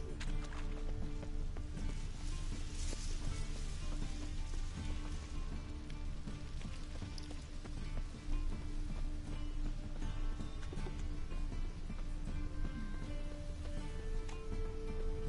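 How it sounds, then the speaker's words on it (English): Steady rain from the video game The Witcher 3 pours down throughout, a dense, continuous hiss with scattered drops, broken briefly by a muffled thud midway. "Must be mad running around in this rain."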